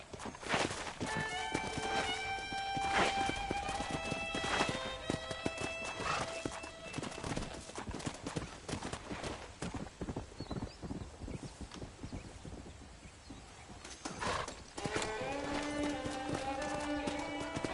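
A horse in the Red Dead Redemption video game gallops with rapid, close hoofbeats, letting out a neigh near the start and another near the end, with rhythmic clip-clop throughout.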